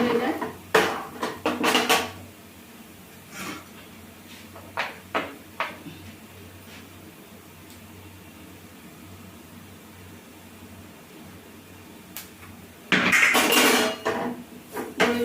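A pot of daliya on a village kitchen stove gets covered with its lid: scattered metallic clanks and knocks of cookware, then quiet, and a final louder clatter of metal on metal close by.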